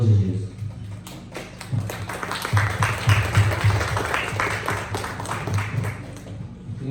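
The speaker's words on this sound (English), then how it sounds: "Let us give a big round of applause to our honorable judges." A crowd gives a round of applause for the judges at an inter-school debate, scattered clapping building through the middle while a voice continues speaking underneath.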